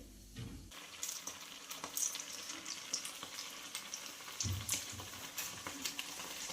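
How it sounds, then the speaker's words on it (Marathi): Gram-flour-battered vada frying in hot oil in a kadhai, a continuous crackling sizzle with scattered pops after a low thump as it goes in. "छान आणि अलगद असा कढईमध्ये सोडायचा आहे आपल्याला वडा"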